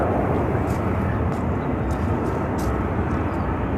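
A Southwest Airlines plane departing Phoenix airport gives off a steady, loud engine roar that stays constant throughout, with faint higher-pitched sounds on top.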